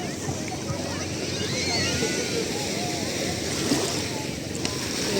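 Ocean waves wash onto a beach in a steady broadband roar, with wind buffeting the microphone and faint voices of people nearby under the surf.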